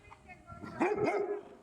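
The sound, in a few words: dogs barking at a truck driver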